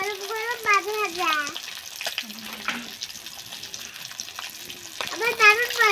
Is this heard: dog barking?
no